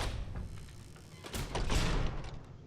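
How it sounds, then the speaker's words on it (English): A door opening inside the video game Fallout: New Vegas: a brief mechanical scrape and thud rising around the middle, close and moderately loud over a low background hum, with no voices. "The door opens the wrong way as well."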